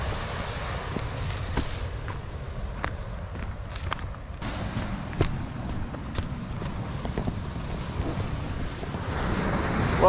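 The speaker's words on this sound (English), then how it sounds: "Welcome to Burning Palms Beach." Surf washing onto the sand at Burning Palms Beach in Australia on a muggy, overcast day, a steady low wash with wind buffeting the microphone and occasional faint footsteps, with no voices.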